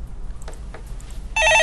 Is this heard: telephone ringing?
yes